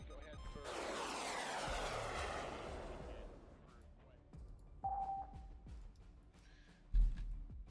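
Military aircraft in a Persian Gulf war simulation game between a US amphibious ready group and Iran, a loud jet sweeping past with a falling, fading roar, followed by scattered sharp game effects and bursts.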